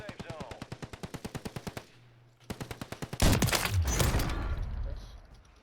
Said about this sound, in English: He was shooting at someone at the fire station.